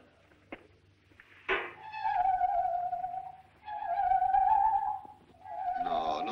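A carpenter's saw played as a musical instrument, giving a wavering, sustained singing tone in three long phrases after a couple of sharp knocks, moderately close and without talk.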